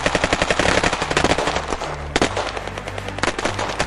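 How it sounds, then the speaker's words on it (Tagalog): Rapid bursts of automatic gunfire crackle loudly and continuously, with sharp overlapping shots and heavier single reports punctuating the barrage. "sunod-sunod na ang putok sa paligid"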